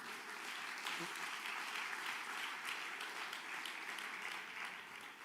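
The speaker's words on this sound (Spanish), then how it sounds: "Alguien aplaude porque lo cree." A church congregation applauds during a sermon, the clapping steady and fairly dense throughout, heard at moderate distance with a faint voice or two underneath.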